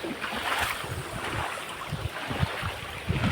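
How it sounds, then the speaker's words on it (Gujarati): River water rushing steadily after heavy, persistent rain, a continuous broad roar of flow with no voices over it. "આ નદીમાંથી આ વાયમાંથી પાણી આવે"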